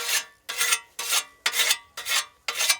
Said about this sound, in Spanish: Vamos a hacerle un pequeño afilado.